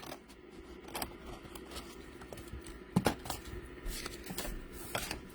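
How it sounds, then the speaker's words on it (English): Scissors snip through a cardboard box, cutting off a diagonal section in a few short, quiet crunching cuts, with one sharper cut standing out, in an otherwise quiet room. "we're cutting the second diagonal. Cutting that off there."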